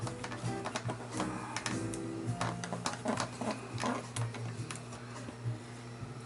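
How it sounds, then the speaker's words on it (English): A Sony DAT deck's tape loading mechanism whirs and clicks as it closes and drops the tape down, a busy run of small mechanical ticks and motor buzz at close range. "the tape goes in and it drops down"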